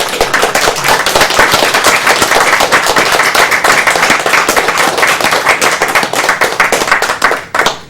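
A live audience at Summer Games Done Quick 2013, a charity speedrunning marathon for Doctors Without Borders, claps steadily, a dense continuous patter of many hands for about eight seconds, loud and close with no talking.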